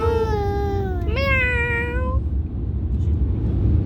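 A person imitates a cat's meow: a single drawn-out, rising then falling mew, close and clear over a low background hum.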